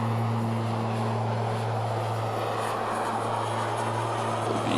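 A Bonanza TP propeller aircraft cruises in flight in the MSFS 2024 simulator, giving a steady, even engine drone with a strong low hum and a constant tone that holds the whole time.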